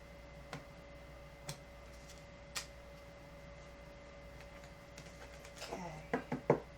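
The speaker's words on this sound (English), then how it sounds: "Last shuffle here." Tarot cards are shuffled with soft ticking flicks, sparse at first, then a quick run of louder riffling snaps near the end.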